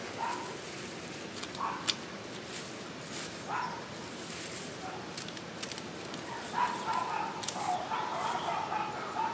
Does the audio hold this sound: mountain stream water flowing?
no